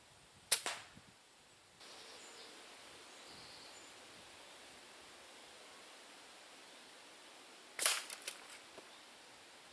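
Air rifle fired from a hide at a squirrel in a tree: a single sharp, close crack with a short tail, a quiet outdoor hush, then a second sharp crack later on, with no speech.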